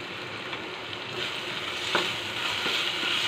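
A dough mixture for kochuri loti frying in a pan, giving a steady low sizzle with a few faint scrapes as it is stirred and turned, close by with no voices.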